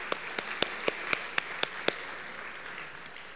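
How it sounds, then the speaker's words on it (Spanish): Audience applause at a vocational training conference welcoming a speaker, heard as a steady wash of many hands clapping with a few sharp, regular claps standing out early, moderately loud and fading slightly toward the end. "Lo vamos a recibir con un fuerte aplauso."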